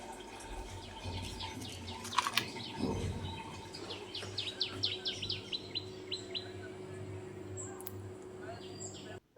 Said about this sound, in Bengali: এই পাখির ডাক খুব সুন্দর লাগলো না?